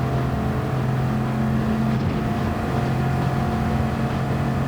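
A Gr.4 race car in Gran Turismo 7 roars steadily down the long Le Mans straight, its engine holding a constant high-speed drone with no breaks or gear changes.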